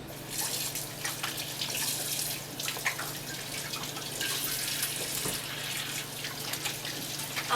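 Water runs steadily from a kitchen tap while hands and apples are washed, a continuous close hiss with faint splashing throughout and no talking.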